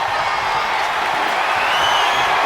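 A video game arena crowd at a WWE 2K24 wrestling match roars in a continuous, loud wash of cheering that swells slightly toward the end, with no talk over it.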